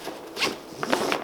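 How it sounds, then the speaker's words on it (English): Nylon straps on a Triple Aught Design Axis Expedition duffel are pulled tight through buckles, giving a few quick rasping zips close by, with short pauses between pulls. "Pull those straps tight"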